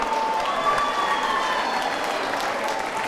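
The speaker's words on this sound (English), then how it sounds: "another round of applause for these two main event competitors tonight" Steady crowd applause fills a bare knuckle boxing arena after a main event bout, a dense unbroken wash of clapping with some faint cheering mixed in throughout.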